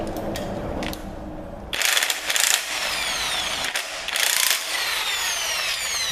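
A ratchet with a short socket turns a stud loose during a 302 engine teardown, producing close, loud bursts of rapid metallic clicking, broken by short pauses as the handle swings back and forth.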